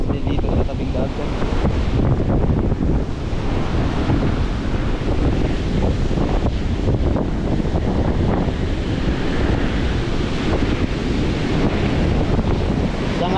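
Seaside surf crashes steadily against a beach after Typhoon Carina, with strong wind buffeting the microphone in a continuous loud roar.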